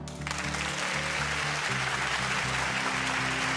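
An award ceremony audience gives loud, sustained applause at the European Inventor Award, a dense wash of clapping filling the hall over steady background music for the whole stretch.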